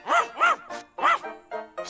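A cartoon dog barks while tracking a scent, giving a quick run of five or six close, yappy barks and yips in an uneven rhythm, alone with no talk.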